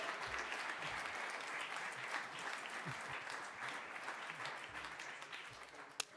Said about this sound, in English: Guys, let's clap for it.